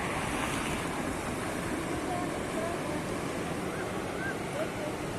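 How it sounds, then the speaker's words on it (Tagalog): Continuous roar of surf and wind at Bagasbas Beach, a steady heavy wash of strong breaking waves with no breaks or voices. "yung malakas talaga yung alon"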